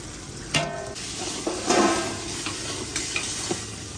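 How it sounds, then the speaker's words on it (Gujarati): Spice tempering of hing, crushed cumin, turmeric and hot chilli sizzles in a pan with tomatoes for Gujarati olo, a roasted eggplant dish. A steady close frying hiss runs throughout, broken by a few sharp clinks and scrapes of a spoon. "જો તે મસાલાનો બધો જ વઘાર નાખી દીધો છે"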